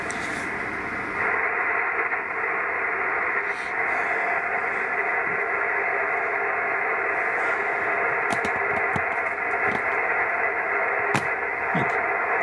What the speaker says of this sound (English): Got a few static crashes because we've had a storm go through earlier on.